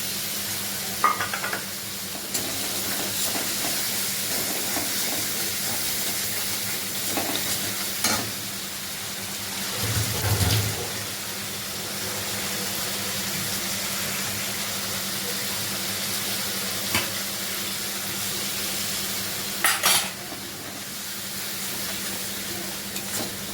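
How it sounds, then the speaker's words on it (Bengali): Sour curd beaten with sugar and salt goes into a pan of sizzling masala, producing a continuous close frying hiss with occasional stirring and utensil scrapes and brief louder bursts. "টক দই ফেটে রেখেছিলাম চিনি আর নুন দিয়ে, এটাকে দিয়ে দিচ্ছি"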